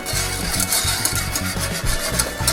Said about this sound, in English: Stir that around just a little bit.